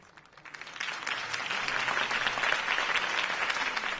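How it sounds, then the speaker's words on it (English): A crowd breaks into applause that swells quickly and then holds as sustained, steady clapping. "could have heard that applause"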